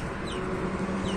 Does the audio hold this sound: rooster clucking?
yes